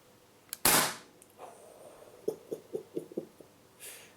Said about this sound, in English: So let's pop the first round through the chrono.